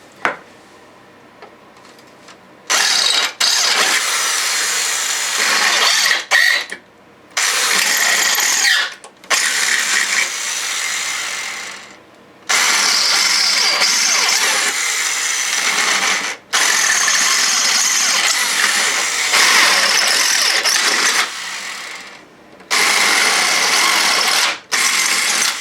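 An electric drill boring 8mm holes in Triumph Scrambler heat shields, in long steady whirring bursts separated by brief pauses, loud and close, with no talk.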